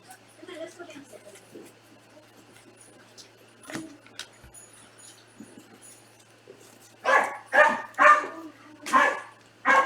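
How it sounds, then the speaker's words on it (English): Several dogs break into a burst of loud barking in the background, repeated barks clustering near the end after quieter household sounds and faint talk. "Uh-oh, there go the dogs."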